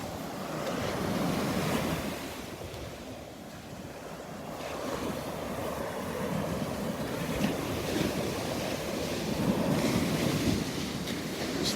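Gulf of Mexico surf breaks steadily on the beach at Delnor-Wiggins Pass State Park, a continuous close wash of waves rising and falling, with wind noise buffeting the microphone and no voices.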